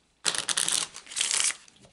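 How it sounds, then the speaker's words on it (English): A deck of cards being riffle-shuffled up close during a Gypsy card reading, two quick bursts of crisp fluttering card riffles separated by a brief pause, in an otherwise quiet room. "I'm going to take a few moments to shuffle the deck."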